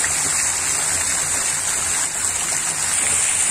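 At night, the Cachoeira das Andorinhas waterfall in Espírito Santo gives off a close, steady roar of rushing water that holds an even loudness throughout, with no voices over it.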